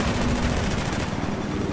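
Rapid automatic gunfire from a Battlefield 4 multiplayer Conquest match, a dense continuous burst of shots lasting the whole moment, loud and close with no talk over it.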